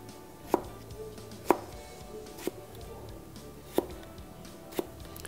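Knife chopping vegetables into even sticks on a cutting board: five sharp, distinct chops spaced about a second apart, close and clear against a quiet kitchen background.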